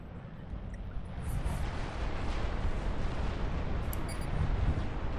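Nuclear missile strike in Supreme Commander 2, a deep rumbling roar building after the first second and holding steady at moderate loudness, with a faint warning tone.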